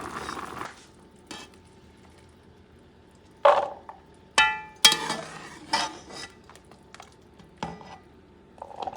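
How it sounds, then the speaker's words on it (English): Cooked chickpeas and beef being lifted out of a pot with a utensil, giving a few scattered scrapes and clinks of metal against the pot, separated by quiet pauses. "I'm going to turn it off and remove the chickpeas and the beef."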